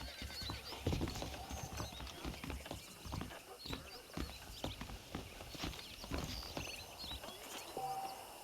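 Horse hooves clip-clop steadily in the Western game Red Dead Redemption, with an irregular rhythm of close, fairly quiet hoofbeats and a brief whinny among them.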